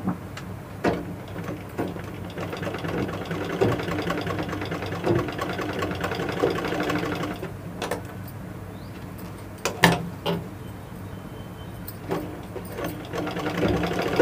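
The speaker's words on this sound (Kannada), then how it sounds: "ಇಲ್ಲಿ ಚುಮ್ಕಿ ಇಲ್ಲ ಮಧ್ಯದಲ್ಲಿ, ಆದ್ದರಿಂದ ಅಲ್ಲಿಗೊಂದು ಹೊಲಿಗೆ ಹಾಕ್ತಾ ಇದ್ದೀನಿ" A sewing machine stitches a blouse hem at a tailoring class, running as a steady mid-pitched whirring drone for most of the clip, with brief pauses and a few sharp clicks near the end and no talk.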